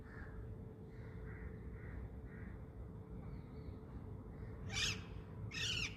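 A bird gives soft, evenly spaced calls followed by two louder, harsher cries near the end, heard outdoors against steady low background noise.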